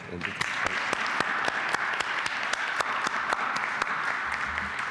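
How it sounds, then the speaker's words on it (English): An audience at a closing and awards ceremony gives a round of applause after a performance, a broad steady clapping with a few sharp, distinct claps popping out at regular intervals. "Let's give her another round of applause, I think."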